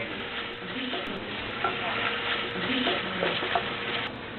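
Chopped bacon frying in a pan, a soft steady sizzle with occasional stirring scrapes and light pops, moderately close and with no voices.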